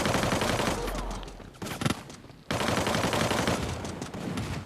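Rapid bursts of battle royale video game gunfire, including shotgun fire, dense and loud, with a brief lull in the middle before the shooting resumes.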